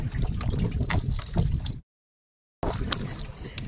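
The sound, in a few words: river waves in wind, Sundarbans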